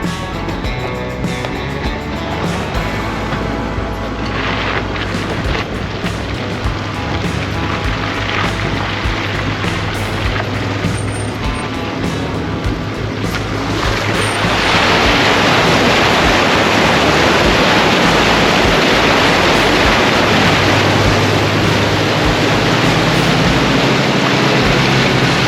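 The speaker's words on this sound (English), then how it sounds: "Just about to cross the Wenlock River." A vehicle rolls along a bitumen road toward and across the Wenlock River near Lockhart River, giving steady road and wind roar that swells into a broad, rushing noise halfway through.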